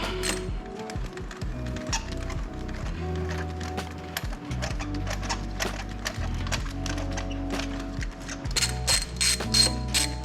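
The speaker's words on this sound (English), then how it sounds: "So we've got our spark plug ratchet here. So we're gonna drop it down this one." A spark plug ratchet loosens a spark plug on a Kia Stinger GT, giving close, rapid metallic clicking in repeated runs over low mechanical noise and growing sharper and louder toward the end.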